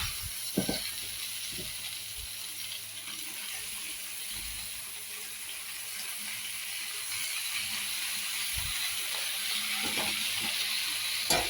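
Brinjal with tamarind and greens sautés in a pan, a faint steady sizzle with occasional soft stirring knocks, quiet and continuous.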